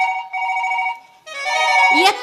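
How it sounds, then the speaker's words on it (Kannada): An electronic telephone ring sounds during a Kannada comedy stage play: steady repeated tones for about a second, a short gap, then more ringing mixed with voices and stage noise. "ಎಲ್ಲಿ ರಿಂಗ್ ಆಗತ್ತ"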